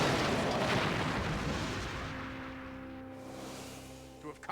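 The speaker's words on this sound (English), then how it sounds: "The Borg cube is firing." Borg cube weapons fire in a Star Trek full-motion-video game: a loud, sustained booming blast rumbling across the clip, fading into a lingering electronic tonal hum with a faint pop at the end.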